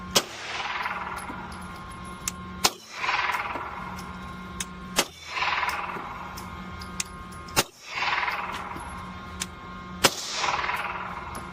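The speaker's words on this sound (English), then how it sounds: "I've shot two magazines of 124 grain through this Canic." A Canik pistol fires 115 grain rounds at 15 yards, five sharp loud shots spaced a few seconds apart, each followed by a ringing, echoing decay outdoors.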